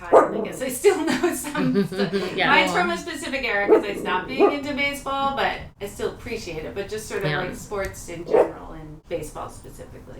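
A dog barks repeatedly from across the street, with intermittent sharp barks and yips that sit under and between the steady talk of a casual conversation.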